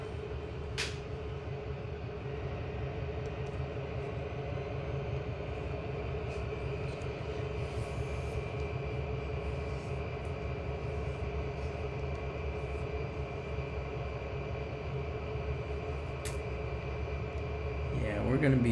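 A switcher locomotive in the train simulator game Trainz 2022 rumbles and hums steadily while backing out, with engine drone and faint mechanical clanks, a continuous low idle that swells slightly near the end.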